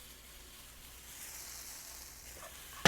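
Eggs fry in a pan, cooked well done, with a soft, faint sizzling hiss that swells slightly midway, then ends with a sharp clatter.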